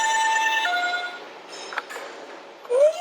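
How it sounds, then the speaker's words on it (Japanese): A yellow toy ambulance minicar with many buttons, marked for the fire department, sounds a thin electronic siren of sweeping tones that fades, then a brief rising wail starts at the end. "サイレンをチェックして、"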